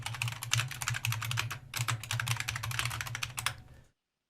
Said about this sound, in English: you get to hear me clacking on my keyboard because I didn't mute it correctly